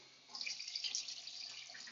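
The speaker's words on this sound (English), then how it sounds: "all I'm going to do is flood this full of cold water" Cold tap water pours steadily into a sprouting tray, a continuous faint hiss and splash that swells after a quiet start and holds for about two seconds with no talking.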